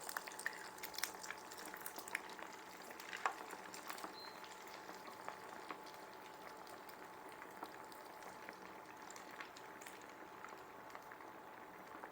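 Kibe, five or six at a time, frying in hot oil, a soft continuous bubbling sizzle with scattered faint pops and an occasional light clink, quiet and steady with no talk.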